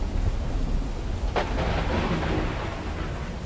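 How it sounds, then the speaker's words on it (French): Thunder from a storm in a video game: a sharp crack about midway swells into a deep rolling rumble over steady broadband noise like rain and wind, with no talking. "Ah, là c'est la tempête, les gars"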